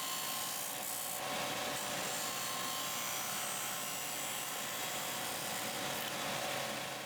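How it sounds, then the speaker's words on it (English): A disc sander smooths a rounded corner on a piece of wood after the corner was cut off with a jigsaw or bandsaw. It makes a loud, steady whirring grind that runs unbroken from start to finish with no talking. "I cut the corner off with a jigsaw or bandsaw and finish it off on the disc sander for a perfect"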